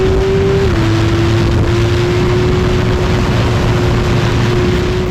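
A $40,000 prototype race car weighing about 1,000 pounds, its engine near 12,000 RPM, drones loudly and steadily at a constant high pitch, with a slight step down in tone early on and heavy wind noise throughout.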